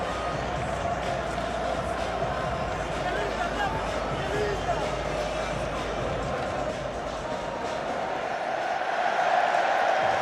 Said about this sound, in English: A great cheer greets the sight of Sir Alex Ferguson on the Wembley screens.